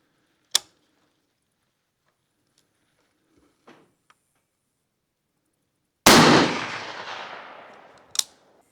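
Rifle shots ring out while a rifle is sighted in on a ranch. A sharp crack at the start is followed by faint ticks, and later a loud report with a long echoing decay and one further crisp impact.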